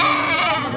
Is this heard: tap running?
no